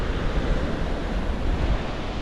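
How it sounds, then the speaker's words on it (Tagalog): Big ocean waves at a shoreline fishing spot crash and roll in a steady, loud wash of broadband noise, with wind buffeting the microphone. "medyo malalaki yung alon."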